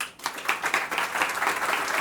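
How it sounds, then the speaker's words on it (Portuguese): An audience gives a round of applause to welcome a presenter at a talk on alternative funding for foundations, with dense, steady clapping throughout the short stretch and no voices. "recebemos ele com uma salva de palmas"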